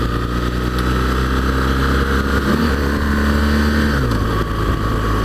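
A BMW R1200 GS motorcycle riding on a wet road near Land's End, its engine droning loudly and steadily with a gear-like drop in pitch partway through, under constant wind and road noise.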